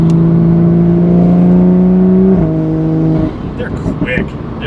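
Toyota Supra A90 with coded sport-plus shifting, engine droning steadily under acceleration before a quick gear change drops the pitch, then the sound fades as the run ends.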